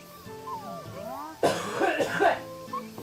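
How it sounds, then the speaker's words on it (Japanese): A character in the Sakuna: Of Rice and Ruin rice-farming game gives a short burst of sharp coughs over soft background music, loud and close. "ょっと咳が。"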